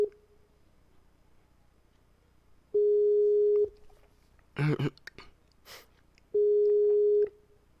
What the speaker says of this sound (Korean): 아 민규한테 전화해야지.